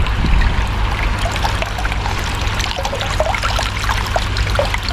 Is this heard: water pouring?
yes